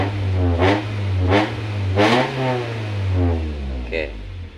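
Engine of a 2005 Honda City revving up as the throttle is pressed, a steady mid-range drone with rising swells, heard close with someone talking over it throughout.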